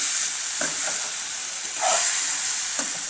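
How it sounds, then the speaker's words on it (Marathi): Cauliflower and spices fry in a pan with a steady, hissing sizzle, while a spoon stirs and scrapes against the metal in a few distinct strokes. "हे छान हलवून घ्यायचं ते मसाला हे एकत्र झालं पाहिजे"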